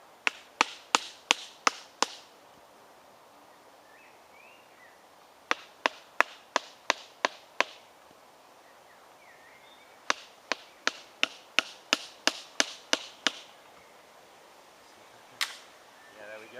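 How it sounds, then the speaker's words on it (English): A Mora knife chops chunks out of a wooden stick outdoors in a forest: three bursts of sharp, close knocks, each a quick run of six to ten strikes, separated by short pauses, with no talking. "takes nice big chunks out of this stick."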